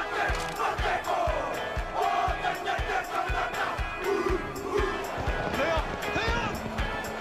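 A large crowd roars continuously at a classic All Blacks rugby match in Spain, with shouts and chanting rising over a steady wash of noise and a commentator's voice talking through it.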